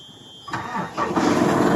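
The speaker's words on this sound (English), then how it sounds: "Now as the machine has started," A JCB backhoe loader's engine cranks and catches about midway, then settles into a rising, steady mid-pitched running rumble that grows louder toward the end.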